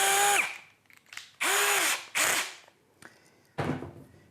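A cordless power drill drives a screw into a wooden juggling-club-style training staff in short bursts: four or five whirring spins with rising and falling motor pitch, separated by brief pauses, close and clear.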